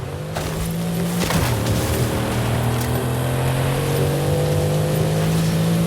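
Fast car engine in a racing video game, a steady loud hum with a rising tone and constant drone throughout, one brief burst near the start, no talking.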